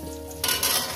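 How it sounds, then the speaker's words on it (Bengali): Potatoes dropped into hot oil with black cumin seeds, a short burst of loud sizzling frying with a light clink of the pan. "আলুগুলো দিয়ে দিলাম।"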